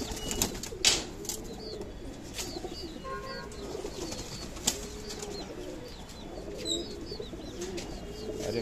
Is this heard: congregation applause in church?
no